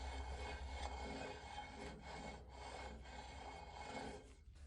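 A surface grinder's saddle slides on the base ways of a Sanford machine during bluing. Steady, close metal-on-metal rubbing rasps back and forth throughout, with no talking.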